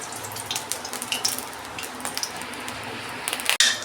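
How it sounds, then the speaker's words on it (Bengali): Oil going into a hot wok, readied for frying spiced fish heads, gives a steady close sizzle and crackle with light clinks of metal, ending in a brief louder splash-like hiss. "আমি তেল দিচ্ছি কড়ায়"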